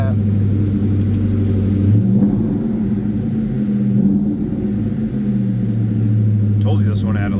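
The engine of a 2003 Ford Mustang Mach 1 idles with a deep rumble and then revs up and settles in steady swells, heard from close by with a person talking over it.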